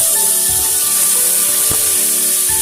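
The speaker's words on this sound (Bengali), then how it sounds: "এবারে সব মেখে রাখা মাংসগুলো আমি দিয়ে দিচ্ছি।" Marinated chicken is added to hot mustard oil in a pressure cooker, giving a loud, continuous hiss and sizzle close up, with a soft knock partway through.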